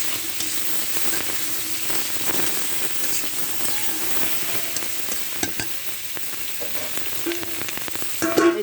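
Tengra fish frying in hot oil in a kadai, with a dense steady sizzle and crackle close by, plus occasional sharper pops and a brief stirring clatter near the end.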